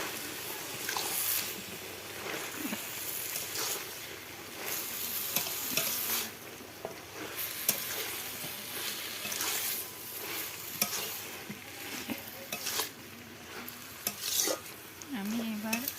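Mixed leafy greens with potato and eggplant stirred lightly in a frying pan, a steady soft sizzle with scraping spoon strokes running throughout, close and moderately loud with no talking.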